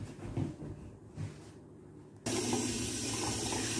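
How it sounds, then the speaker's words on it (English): A kitchen sink tap is turned on partway through, releasing a loud, steady rush of warm water that continues to the end after a quieter stretch of faint room noise. "now what you're going to want to do is get some warm water on the go"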